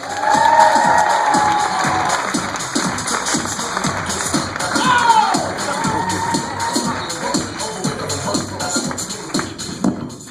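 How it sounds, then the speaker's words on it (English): A comedy club audience at Laughs Unlimited cheers and applauds as comedian Wendy Lewis is welcomed, a dense, steady roar of claps and whoops that swells and stays loud throughout. "give a big round of applause for Miss Wendy Lewis"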